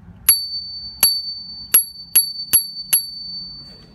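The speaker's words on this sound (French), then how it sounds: "vous pouvez voir une petite sonnette." A small bicycle bell on a mountain bike rings six times in crisp, bright dings, evenly spaced and close, with quiet background between strikes.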